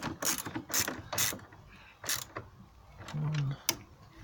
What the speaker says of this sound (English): Okay, so we've got those bolts in. Just tighten those up.